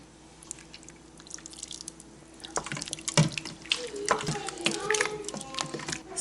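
A thick coconut milk mixture is poured into an Instant Pot and stirred, giving liquid splashing and dripping followed by wet clinks and scraping that grow louder toward the end, heard close.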